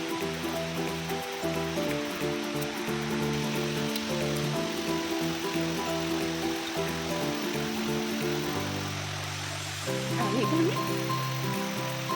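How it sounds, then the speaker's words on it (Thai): Mae Ya waterfall runs full in the rainy season with a continuous rushing roar, heard under steady music. "อนนี้เราก็มาถึงน้ำตกแม่ยะแล้ว"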